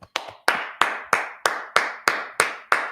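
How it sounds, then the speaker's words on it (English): Rhythmic group clapping at a religious brotherhood and sisterhood class, about nine sharp, evenly spaced claps in steady time, loud and close with no talking over it. "Let's clap it up for the Lord."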